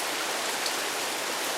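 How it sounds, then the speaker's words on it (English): Steady rain falling outdoors, a dense even hiss with no distinct drops or talk, moderately loud and constant throughout. "Looks like it's going to start to rain out here."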